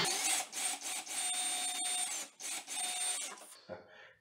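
Power drill boring into drywall while fitting an electrical outlet box for a garbage disposal, a loud whirring run with brief pauses and speed changes, stopping near the end with a short clunk.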